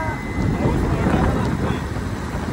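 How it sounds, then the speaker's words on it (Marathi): Strong wind buffets the microphone in a steady, loud low rumble throughout, with gusty roaring and no clear voices. "हवा बरीच आहे."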